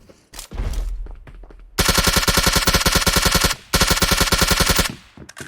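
Gunfire in the mobile shooter PUBG Mobile: a few scattered single shots, then two long, loud, rapid automatic bursts with a brief pause between them, close and echoing.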